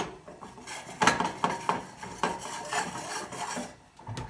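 Crockery clatters as a plate is taken out while an omelette cooks, with several distinct clinks and scrapes of dishes and cutlery, close and fairly loud, no voices.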